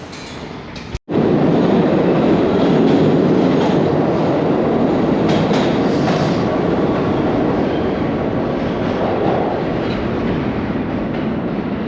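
A New York subway train rumbles at the station platform, loud and continuous after a sudden start, with steady wheel and motor roar filling the space and no voices.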